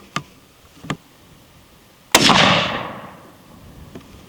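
A Remington rifle fires a single loud, sharp shot of a Barnes TSX 130 grain bullet. The crack sets off a long decaying echo, and two faint clicks come before it.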